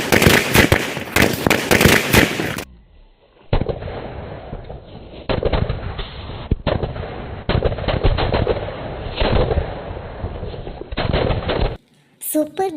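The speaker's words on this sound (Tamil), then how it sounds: "பற்ற வச்சது எப்படி தூள் தூளாக வெடித்து சதுருது பாருங்க" A string of firecrackers bursts around an egg, a loud rapid crackling chain of bangs that keeps popping for several seconds, with people talking before the fuse burns down.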